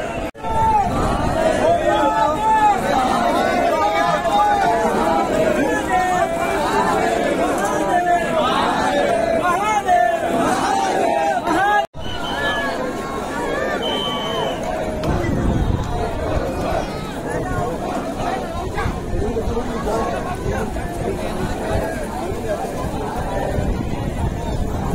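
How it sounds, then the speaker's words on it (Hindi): Crowd of pilgrims at Kedar Ghat in Varanasi, a steady murmur of many voices with scattered nearby chatter and movement, continuous throughout, with one speaker talking over the bustle. "ये दूसरा घाट है केदार घाट, जहाँ पे आप देख सकते हैं बहुत ज़्यादा भीड़ लगी है"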